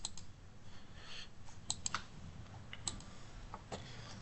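A computer mouse is clicked in a spreadsheet program, with small sharp clicks scattered over a quiet room background, close and faint, including a quick double tap, no voices.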